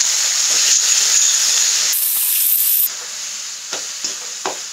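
Ground onion paste hits a hot pan for Pindi chole, letting out a loud, close hiss and sizzle that eases after a few seconds into quieter frying with soft stirring clicks, no voices.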